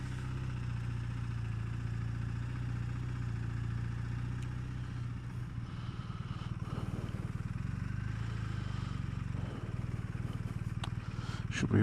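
Steady low rumble of a BMW R1250RT LE motorcycle engine running nearby, a continuous even drone that holds throughout with slight fluctuations toward the end.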